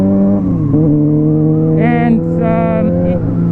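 A motorcycle engine hums steadily up close while the rider downshifts with rev matching, giving two short throttle blips that lift the pitch before dropping back; someone speaks briefly over it.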